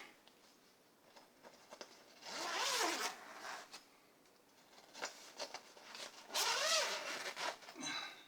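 A guitar gig bag is unzipped nearby in two long, raspy zipper pulls separated by quiet rustling and small handling knocks.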